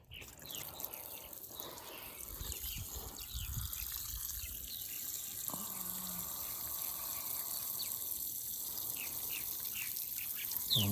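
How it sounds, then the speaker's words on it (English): Water from a hose splashes and trickles steadily onto garden plants prepared for corn and giant pumpkins, a continuous close gush with occasional drips and outdoor ambience. "I just wanted to give them a little drink before I go"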